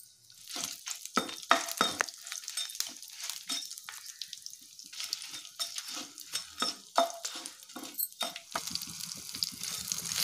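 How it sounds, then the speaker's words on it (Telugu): Fenugreek seeds and dried red and green chillies sizzle and crackle in hot oil. A spoon keeps clattering against the pan as they are stirred, and the frying stays busy and dense throughout. "మెంతులు, ఎండుమిర్చి, పచ్చిమిర్చి వేసుకొని ఫ్రై చేసుకోవాలి"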